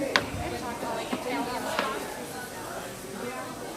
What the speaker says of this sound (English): you just mince them together